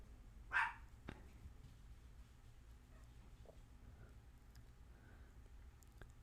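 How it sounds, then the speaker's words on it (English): A single dog bark from a nearby room, one short sharp burst near the start, followed by faint quieter sounds in an otherwise calm indoor space. "sorry about the dogs."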